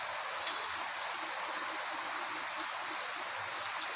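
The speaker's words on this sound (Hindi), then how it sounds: "बहुत ही तेज़ी से बारिश आ रही है।" Heavy rain pours down steadily, a dense close hiss with occasional louder drops and splashes, no voices.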